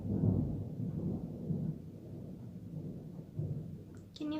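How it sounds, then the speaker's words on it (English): Low, rolling thunder rumbles on for several seconds ahead of rain at 1 a.m. on the first of May, distant and steady, with a brief sharper sound at the end. "That's thunder. It's going to rain."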